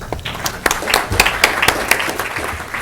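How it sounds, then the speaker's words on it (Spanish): Audience applause welcoming the guest speaker Alberto Verme at a finance keynote lecture, a short burst of clapping from a seated crowd with a few sharper claps standing out, fairly close and steady for about three seconds. "le damos entonces la bienvenida a Alberto Berme con un gran aplauso"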